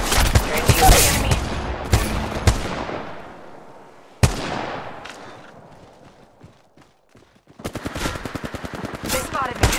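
Loud gunfire in the battle royale game Apex Legends: sharp single shots and rapid bursts ring out with long decaying echoes, fading to near quiet before another fast burst of shots near the end.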